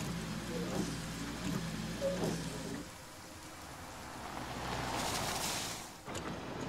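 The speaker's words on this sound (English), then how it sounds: "Water splashing." Water in Last Day of June washes and splashes in a soft, broad rush that dips into quiet midway, then swells again with a brighter hissing surge before easing.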